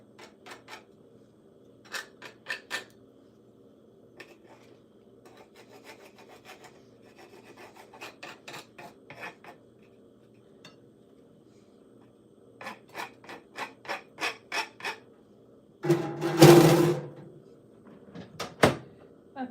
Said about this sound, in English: Scrape them onto the plate.